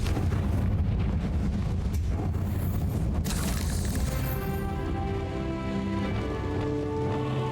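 Confringo fire spell blasting in the Hogwarts Legacy video game, a dense, loud burst of crackling, booming impact over continuous battle noise, followed by ringing tonal effects as the blast fades.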